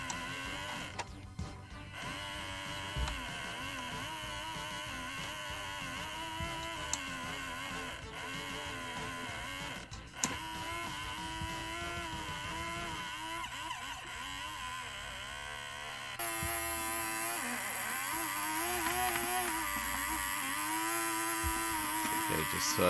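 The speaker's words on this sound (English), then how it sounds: "So as you can hear, the motor is actually working," A faulty motor in a 1980s Tomy Kongman mechanical Donkey Kong toy runs with a harsh, rough, continuous mechanical drone and rattle, steady throughout and growing a little louder and buzzier toward the end, with no talking.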